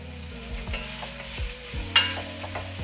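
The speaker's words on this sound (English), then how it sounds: "I love to hear the sizzle." Carrots and celery sizzle steadily in a hot pan with a few scraping stirs of a utensil, close up, with no talking.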